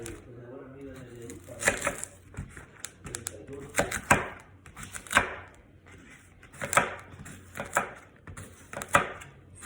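A kitchen knife quickly chops potatoes on a cutting board, with sharp, evenly spaced thuds in bursts close to the listener. A voice is faintly audible near the start.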